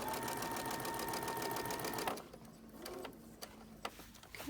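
A sewing machine stitches a test buttonhole, a steady close mechanical whir for about two seconds, then slower, quieter intermittent stitching with small clicks.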